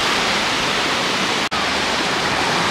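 Water rushes in a continuous loud hiss at a Baltic beach near Międzyzdroje, a steady wash of surf noise broken by one brief gap.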